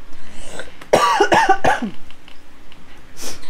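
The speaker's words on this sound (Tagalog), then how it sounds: "Parang bumalik na naman yung ubo natin, di na nawala." A person coughs several times in a tight, hoarse cluster close to the microphone, then gives one softer cough a moment later.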